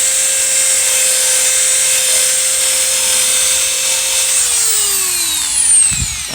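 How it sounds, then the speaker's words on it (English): A high-speed rotary tool spinning sandpaper on round stock against a motorcycle crankcase, a loud steady whine that drops in pitch near the end as it winds down. "you can hit that with the sandpaper on round stock"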